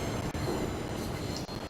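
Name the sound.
rail head treatment train running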